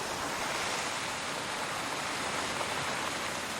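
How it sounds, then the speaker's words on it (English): Steady broadband rush of a waterfall on the Isle of Skye, constant and fairly loud with no pauses, heard alone without any voices. "Listen to the waterfall."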